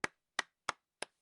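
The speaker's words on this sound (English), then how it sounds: "Raul gave a small cheer and a quick bit of applause" Four crisp, isolated hand claps ring out as a small, quick burst of applause in the Cupid Parasite game, evenly spaced with silence between them.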